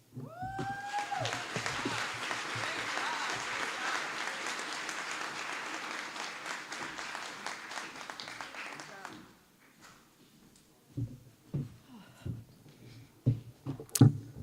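Audience applause and cheering at a summer school graduation ceremony, following a marching band performance; loud sustained clapping for about nine seconds, then fading to scattered claps and a few voices.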